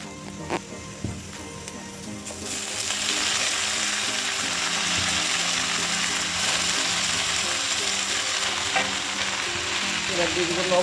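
Water spinach hits a pan of fried onions with a few scraping knocks, then a loud hissing sizzle swells and holds steady, broken by occasional stirring clicks, close by.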